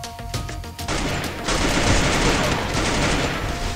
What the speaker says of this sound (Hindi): भाई, कहाँ से मार रहे हैं लोग?